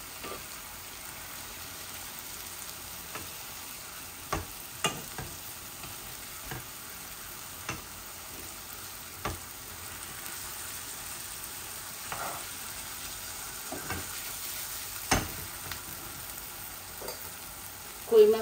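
Pieces of koi fish fry in hot oil in a home kitchen, a quiet, steady sizzle broken by scattered sharp crackles and pops throughout, with no talk.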